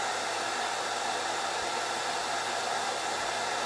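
A hand dryer blows steadily on craft paste, a constant loud whooshing roar with no breaks.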